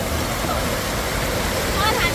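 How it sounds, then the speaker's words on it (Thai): Kinnaree waterfall gives a steady, broadband rush of falling water throughout, loud and continuous, with faint voices mixed underneath. "โอ้ตรงนี้ก็มีน้ำตกเหรอ"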